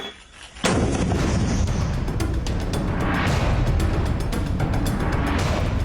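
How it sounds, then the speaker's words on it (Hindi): Sustained gunfire along the Line of Control on the India-Pakistan border near the Arnia sector of RS Pura, Jammu and Kashmir, a dense roar of rapid shots and booms that starts abruptly and continues loud and unbroken. "सरहद के पास रहने वाले गाँवों में वो गोलीबारी कर रहा है।"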